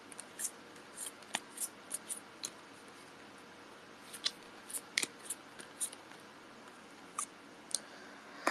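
Tarot cards are shuffled by hand in a quiet room, a string of soft, irregular crisp riffles and taps, close and faint.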